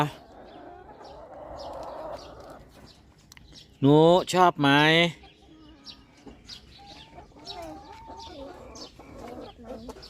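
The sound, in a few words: chickens clucking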